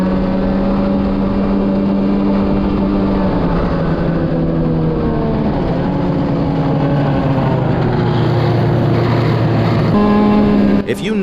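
An older, worn snowmobile with a blown-up engine and old carbides drones steadily at speed on a first ride, a loud, close, sustained engine tone with shifting harmonics under wind, and a voice talks over it.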